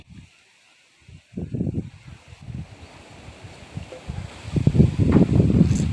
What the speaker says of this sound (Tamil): காற்று நல்லா அடி பலமாக அடிக்கிறது.